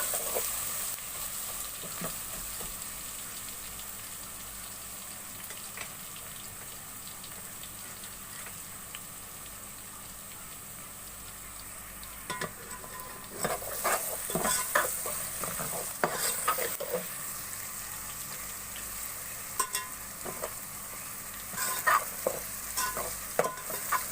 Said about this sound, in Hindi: थोड़ी देर लहसुन को भून लेंगे।